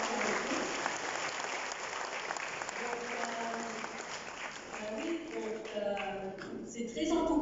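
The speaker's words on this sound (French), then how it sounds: "Vous pensez que je mérite un grand applaudissement," Audience applause at a certificate ceremony for young people in Mauritius: steady, dense clapping across the whole stretch, with voices rising over the crowd toward the end.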